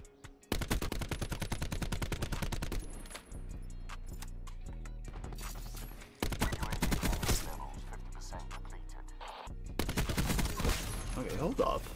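Rapid, evenly spaced shots from a low-recoil gun in a video game, fired in three long close bursts separated by brief pauses with low mechanical hum between them.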